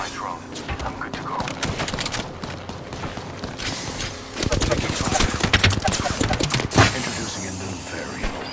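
Gunfire in a battle royale shooter, dense rapid bursts of automatic shots, close and loud, growing heavier in the second half with overlapping volleys and voices talking.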